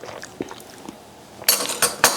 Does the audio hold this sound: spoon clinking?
yes